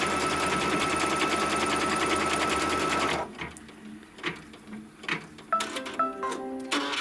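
A sewing machine stitches a quilt design on top of tacked-down fabric, running at steady high speed for about three seconds, then stopping, followed by quieter clicks and short mechanical whirs.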